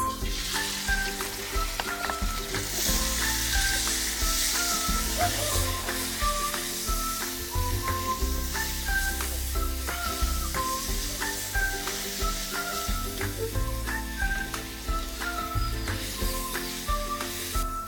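Beef frying in a pan over a lit flame at a street-food stall in Moratuwa, a steady close sizzle with intermittent scraping and stirring clinks, continuous for the whole stretch, no voices.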